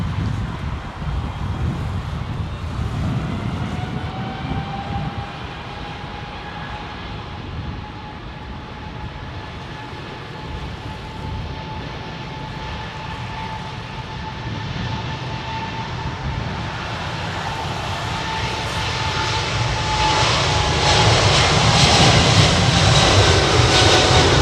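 A Thai Airways Boeing 777 jet takes off at Heathrow Airport, a loud continuous engine roar with a steady whine that swells toward the end as the aircraft passes close.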